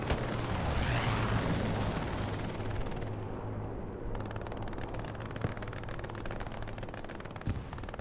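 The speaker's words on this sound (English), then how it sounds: "Strafing run coming in." Heavy aircraft strafing fire in a Hell Let Loose match, a loud sustained burst of rapid gunfire and impacts that rolls on for several seconds, with further scattered shots and booms trailing after.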